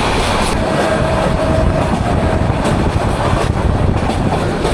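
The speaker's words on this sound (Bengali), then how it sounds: "আমাদের ট্রেন কিন্তু দুর্দান্ত গতি নিয়ে ছুটে চলছে।" Upokul Express, a meter gauge intercity train from Dhaka to Noakhali, running at speed: a loud, steady rumble of wheels and carriages with a continuous roar and faint rhythmic clatter, no voices.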